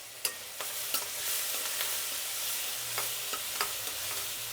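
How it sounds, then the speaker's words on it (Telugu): Cut tomatoes with curry leaves, turmeric and salt sizzle steadily in a hot pan, broken by a series of sharp spoon scrapes and taps as they are stirred. "టమాటా ఇక్కడ కట్ చేసి వేస్తున్నానండి, రుబ్బలేదు ఈరోజు"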